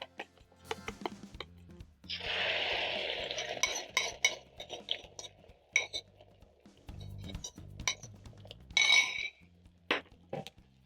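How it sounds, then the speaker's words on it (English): Beaten eggs being spread in an oiled pan, heard as a faint fry under intermittent clinks and scrapes of a utensil against the pan, with a longer stretch of sizzling and clattering midway. "Spread the eggs."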